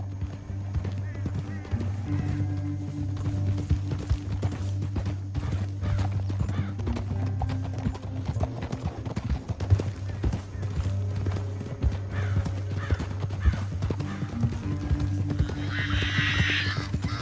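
Several horses' hooves clip-clop steadily at a walking pace in the Red Dead Redemption 2 video game, over a low steady hum, with a snort or whinny near the end.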